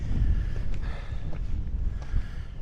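Strong wind buffets the microphone high on a Scottish mountain near Sgùrr Alastair and the Great Stone Chute, a steady loud roar with gusty swells that runs unbroken through the whole stretch, with no voices.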